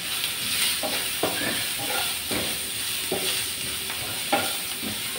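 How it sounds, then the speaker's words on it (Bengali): Onions fry in a pan with a steady hiss and sizzle, broken by a few soft scraping stirs at close range. "পেঁয়াজগুলোকে ভালো করে ভেজে নেব।"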